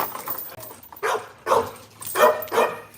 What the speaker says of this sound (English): She's a very good dog.